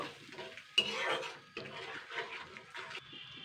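Spice paste for tilapia fish curry being stirred and fried in a pan, with uneven scraping and clinking strokes and a soft sizzle, close and moderately quiet, no voices.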